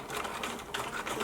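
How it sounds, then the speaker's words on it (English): A sewing machine runs slowly through a straight stitch in a short, steady burst of soft, rapid mechanical ticking with a few uneven pulses, close and alone. "you can either just sew slowly or crank your wheel with a straight stitch"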